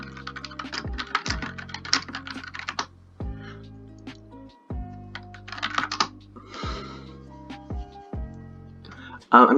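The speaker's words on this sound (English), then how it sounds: "I'm typing to them right now." Quick bursts of typing on a computer keyboard, near and soft, broken by brief pauses, over a steady tonal game soundtrack.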